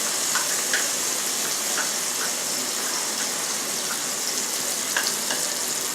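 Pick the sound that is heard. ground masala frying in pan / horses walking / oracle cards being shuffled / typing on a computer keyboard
ground masala frying in pan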